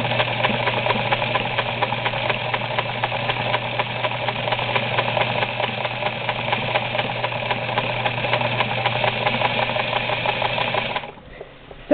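A motor-driven Singer 237 zigzag sewing machine runs steadily while sewing a close satin stitch, giving a continuous mechanical hum with a rapid needle rhythm that stops abruptly near the end.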